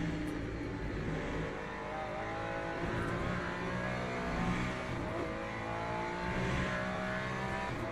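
Hypercar engines race at Le Mans in a racing video game, a continuous buzzing engine drone with shifting revs and overlapping cars, fairly quiet and steady with no talking.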